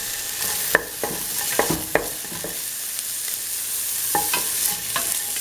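Onion pieces sizzle in a hot pan under a steady hiss, with a few sharp scrapes and taps of a utensil stirring them, close and moderately loud.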